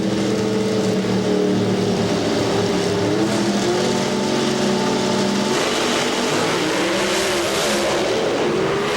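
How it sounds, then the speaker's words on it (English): Drag racing cars at the 1999 NHRA Pennzoil Nationals in Richmond rev their engines with a loud, sustained, rising and falling roar that fills the whole stretch, with no voices. "Rev the motors and keep the spark plugs clean and firing."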